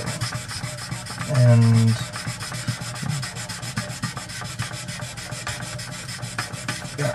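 Hand sanding of Weld-On 16 acrylic cement flat on an acrylic crack repair, using grit paper wrapped around the end of a stick: a steady, close rasping scrub that runs throughout, with one brief spoken word.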